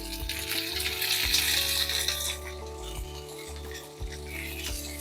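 Shallots, dried red chillies and tamarind sizzle and crackle in a hot pan for a tamarind chutney. The frying is steady and close, with occasional stirring scrapes over a constant low hum.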